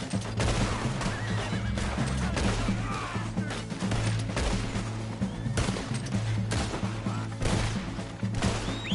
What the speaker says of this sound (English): Alright, where's my horse? There you are.